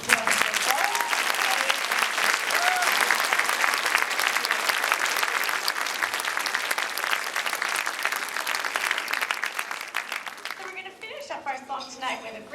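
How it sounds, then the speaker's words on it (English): A school winter concert audience claps for 11- and 12-year-old performers, with loud sustained applause that thins out near the end as voices begin to come through. "How about another round of applause?"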